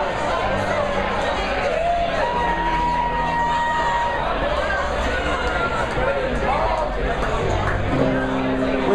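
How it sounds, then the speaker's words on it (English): Live concert crowd cheering and whooping in a noisy hall, a continuous roar of voices with scattered shouts and chatter, while a performer talks over the din. "It's a fantastic crowd."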